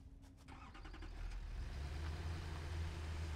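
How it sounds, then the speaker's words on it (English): Tractor engine in the Satisfactory game, a steady low mechanical rumble that swells and holds at a constant drone, close and fairly loud with no talk. "there's a tractor"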